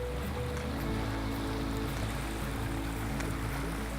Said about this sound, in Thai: นี่ก็คือบรรยากาศทะเลทางใต้นะคะทุกคน